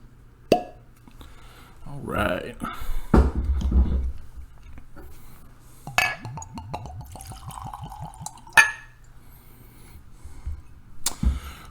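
Bourbon whiskey pours into glasses in short glugging bursts, with bottle and glass clinks between pours, close by, while someone speaks briefly.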